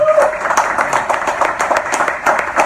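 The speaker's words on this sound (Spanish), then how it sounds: "¿Cuántos pueden darle un aplauso al Señor por eso?" A church congregation claps together in a brief, lively burst of applause, fairly loud and close, with some voices mixed in.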